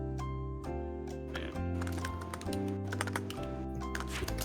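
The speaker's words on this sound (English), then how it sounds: "you're typing up a storm" Rapid keystrokes on a computer keyboard during a livestreamed Jeopardy! Tournament of Champions play-in, with a brisk run of clicks partly masked by loud, steady background music.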